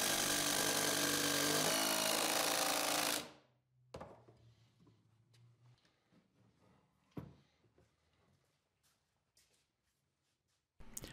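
Oversized number 12 screws, about 5 5/8 inches long, are driven into a workbench frame with a power driver, giving one loud continuous burst of a few seconds, then quiet shop clatter and small knocks.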